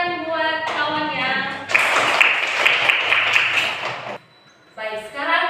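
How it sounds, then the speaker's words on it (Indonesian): Classmates clap for a fellow student in a primary-school classroom, a burst of applause lasting a couple of seconds that cuts off sharply, with a teacher's voice talking before and after. "Tepuk tangan buat kawannya"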